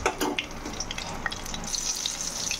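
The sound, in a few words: dried red chillies and tempering spices frying in oil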